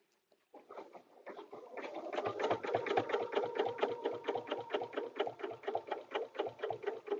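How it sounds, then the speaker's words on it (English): A sewing machine stitches in the ditch on a paper-pieced butterfly dresser scarf, its rapid, steady mechanical chatter starting up after a brief pause and running continuously up close. "we're going to stitch in the ditch"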